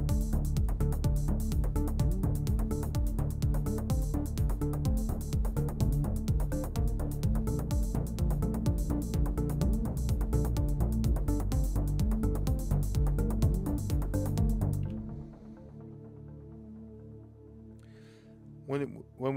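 Live techno track built around pads from a Novation Peak synthesizer, a loud steady driving beat with sustained chords that cuts out near the end, leaving quieter residual tones and a few faint bits.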